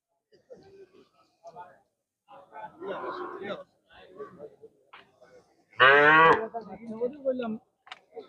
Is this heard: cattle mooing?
yes